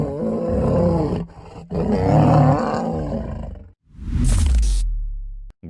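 A lion roars on trail camera footage outdoors, two long, loud, rumbling roars with a brief pause between them, followed by a shorter, rougher burst ending in a deep low growl.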